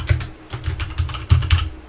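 Rapid typing on a computer keyboard while a customer name is entered, close and crisp, with evenly spaced clacking keystrokes and no voices.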